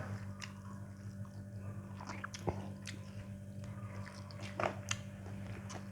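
Faint, close chewing and biting on grilled tilapia stuffed with herbs, eaten with hot steamed rice. Soft crunches and squishes come irregularly over a low steady hum.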